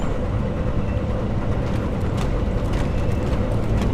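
A video game train gives a steady, loud rumbling roar that holds constant throughout, with no clear speech over it.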